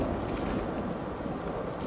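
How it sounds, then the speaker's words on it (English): Stormy wind in the Red Dead Redemption game, a steady broadband rush of gusting air with no distinct thunderclap standing out. "Stormy outside."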